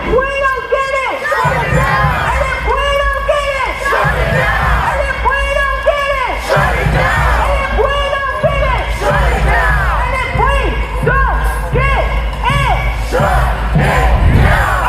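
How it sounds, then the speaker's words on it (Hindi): Crowd of street protesters in the United States chanting against war with Iran, loud rhythmic group shouts repeating in regular bursts throughout, close and dense, with voices yelling together. "अमेरिका के लोग सड़कों पर उतरकर ट्रंप के खिलाफ प्रदर्शन कर रहे हैं और चीख चीख कर कह रहे हैं कि उन्हें ईरान से जंग नहीं चाहिए"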